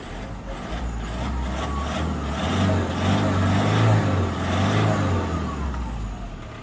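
A used Toyota Hilux Vigo Champ 2.5 pickup diesel engine idling steadily nearby, a low rumble that swells slightly and eases back, with no talking.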